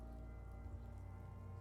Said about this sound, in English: It's raining outside, light drizzle.